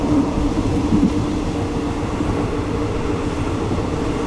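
Steady rumbling of a Thai train rolling along rails from Bangkok toward Warin Chamrap, a continuous low clatter and hum with no voices.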